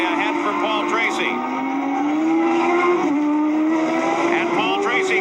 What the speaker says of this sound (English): The Marlboro car, the Penske, powered by Chevrolet, takes the checkered flag.